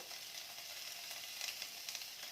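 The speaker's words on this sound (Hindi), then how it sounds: "अब इसमें एक मीडियम साइज का बारीक कटा प्याज डालेंगे।" Finely chopped medium onion dropped into hot oil with toasted cumin and spices for a millet pulao, giving a steady, bright sizzle with small crackling bursts, close and fairly quiet.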